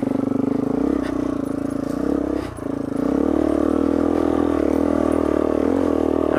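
A larger dual sport motorcycle climbs a dirt hill in first gear, its engine chugging loudly and steadily with a brief dip in revs and some clatter before it pulls harder again.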